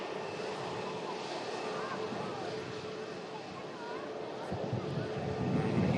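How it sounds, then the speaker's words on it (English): A Qatar Airways A350 lands at Manchester Airport, its engine rumble steady and fairly distant before growing louder toward the end, with faint voices in the background. "Keep quiet while this aircraft touches down"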